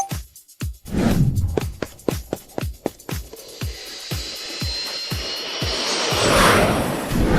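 A spaceship engine bound for Mars fires up with a run of rhythmic thumping pulses that quicken, then swell into a rising, sustained roaring whoosh, loud and close, with no voices.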